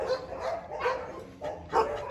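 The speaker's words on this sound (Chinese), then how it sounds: "里面还有好多狗啊，马犬太吵了" Belgian Malinois dogs bark at a large kennel, with three or four sharp, loud barks spaced irregularly and a whimpering yip between them, heard close with kennel noise behind.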